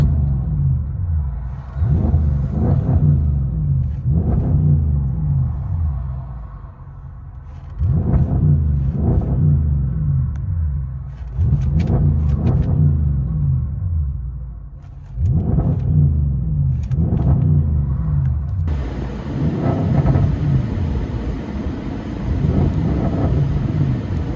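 Audi S7 quattro with a 4.0L twin-turbo V8 and modified exhaust, revving in repeated bursts with crackling pops as each rev falls away, loud and close with no talk.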